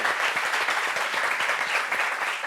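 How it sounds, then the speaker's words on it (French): A seated audience at a meeting on workplace sexual harassment applauds with dense, steady clapping that lasts throughout. "Applaudissements."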